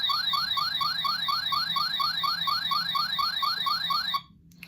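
A Power Rangers Time Force Chrono Morpher toy's communicator button emits a rapid, warbling electronic beeping in a steady repeating pattern, loud and close, then stops abruptly near the end.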